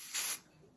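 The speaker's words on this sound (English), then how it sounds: "I'm gonna apply more ebony spray on the lace." Ebony spray misted onto wig lace in a single short, close hissing burst of under half a second, followed by faint quiet room tone.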